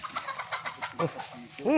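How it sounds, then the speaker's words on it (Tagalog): Chickens cluck in short, choppy bursts close by, with faint voices in the background and a louder squawk at the end. "Huhuli ka ng manok."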